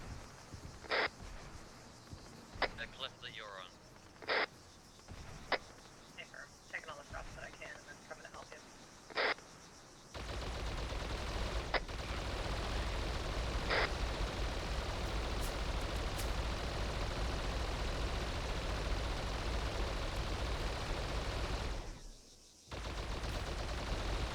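In a video game set on a planet, gunfire comes as sharp, separate shots in the first half, then a dense, loud, sustained roar of firing for about twelve seconds, with players' voices talking over it.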